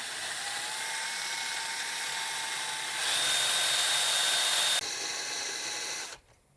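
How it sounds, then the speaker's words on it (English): Power drill boring a hole into a Yamaha YZ125 motorcycle engine case, a continuous high whine that shifts pitch as the speed changes, close and loud, then cutting off abruptly at the end. "Now I'm gonna take a little drill bit."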